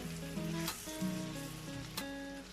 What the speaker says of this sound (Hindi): ये भी हम हल्की सी फ्राई कर लेंगे